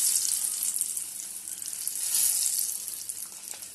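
Cashew nuts frying in hot oil, a steady, bright sizzling hiss that stays close and even for a few seconds, with no voices.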